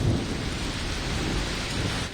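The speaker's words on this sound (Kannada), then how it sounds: "ಗುಡುಗು ಸಹಿತ ಬೆಳಗಾವಿಯಲ್ಲಿ ಭಾರೀ ಮಳೆಯಾಗಿದೆ." Heavy thunderstorm rain pours down in Belagavi, Karnataka, a dense, constant hiss of downpour with low thundery rumble beneath it and no voices.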